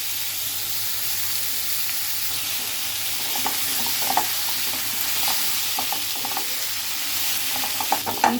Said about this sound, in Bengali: সামান্য একটু হলুদ আর লবণ দিয়ে মিষ্টি কুমড়াগুলো ভালো করে ভেজে নিব